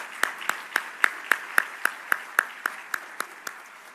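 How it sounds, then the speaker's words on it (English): A single person's slow, steady clapping at a county address ceremony, about fourteen evenly spaced claps, crisp and fairly close, with no talk over it. "Let's give this young lady another round of applause."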